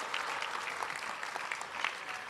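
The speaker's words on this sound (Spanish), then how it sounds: "Un fuerte aplauso para todas ellas de toda la región," Crowd applause at a regional government event in Tepeaca, moderately loud with scattered sharp claps in a continuous, even patter and no talking over it.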